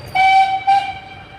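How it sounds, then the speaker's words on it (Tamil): A train near Coonoor sounds its horn in two loud, close blasts, the second shorter, with a low rumble underneath. "ரயில் வருது, இருங்க காட்டுறேன்."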